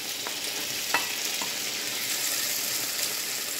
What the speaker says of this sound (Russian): Теперь вместе это немножко сейчас обжарим.